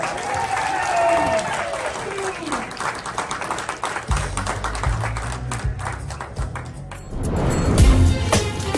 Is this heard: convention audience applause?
yes